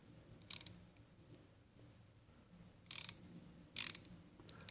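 Snap-on ratchet freewheeling, heard as a few separate bursts of quick, crisp pawl clicks, each about a quarter second long, with a quiet pause between bursts.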